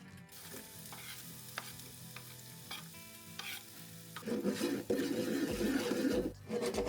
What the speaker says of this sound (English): spaghetti with chili, parsley, onion, and shrimp sauteed in white wine